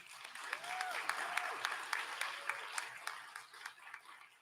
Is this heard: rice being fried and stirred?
no